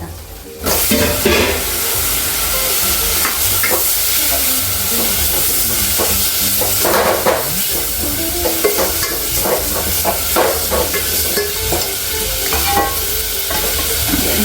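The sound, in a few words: tomatoes frying in a pan for lentil dal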